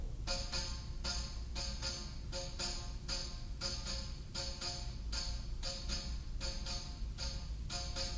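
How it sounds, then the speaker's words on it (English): A tambourine plays alone in a steady, repeating rhythm, its bright jingle hits landing in clustered groups, close and clear with no voices. "could we just hear the tambourine alone for a moment?"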